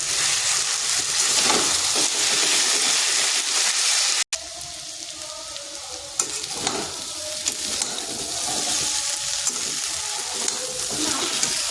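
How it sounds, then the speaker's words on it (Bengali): Steady hissing sizzle of potatoes frying lightly in a pan, fairly close, with occasional scraping stirs and a brief cut partway through. "আর আলুটাকে আমি ভেজে নিচ্ছি, খুব বেশি ভাজবো না"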